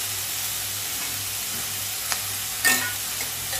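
Cashews frying in a pan for a dhaba-style paneer butter masala gravy, a steady close sizzle with a couple of brief stirring clinks, no talking.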